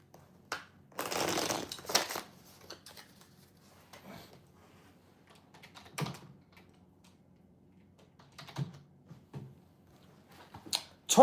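A quick riffle of cards near the start, then scattered soft clicks and taps across an otherwise quiet stretch.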